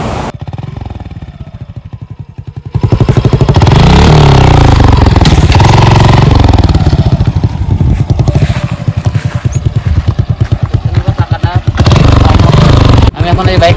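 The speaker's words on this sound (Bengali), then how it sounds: "আমি এখন আমার বাইকের এক্সস্টের সাউন্ডটা শোনাবো আপনাদের" A Suzuki Gixxer motorcycle's exhaust idles with a low rumble, then revs loudly and holds at high revs for a long stretch with a couple of brief dips, recorded close up.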